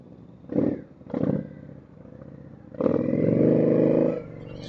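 Motorcycles from a touring group set off on a road ride to Lyme Regis, with two short engine revs followed by a longer, louder throaty pull as the bikes accelerate away nearby.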